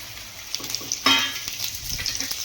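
Okra hits hot oil already seasoned with crackled fenugreek seeds and asafoetida, bursting into a loud, close sizzle around the one-second mark, then settling into a steady frying hiss with faint stirring clinks.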